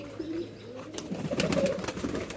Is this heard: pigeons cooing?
yes